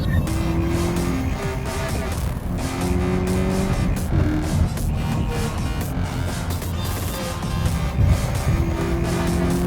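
A Toyota 86 sports car is driven hard along a twisty road, its engine droning loudly and steadily with shifting pitch as it climbs and falls through the corners, heard continuously from close by without any talk.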